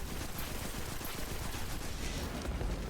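A Destiny 2 auto rifle with a 70-round magazine fires in a continuous rapid stream of shots, dense and sustained, with no talk over it.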